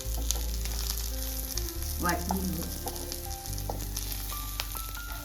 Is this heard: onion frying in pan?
yes